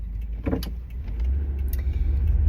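Passing road traffic, a car driving by fairly close with a steady low rumble and a brief brighter swell, continuing alone without talk.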